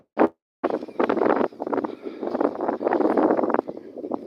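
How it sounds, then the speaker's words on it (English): Loud, blustery wind buffeting a microphone outdoors, rumbling in uneven gusts almost throughout after a brief burst and a short silence at the start. "all you probably can hear is the wind"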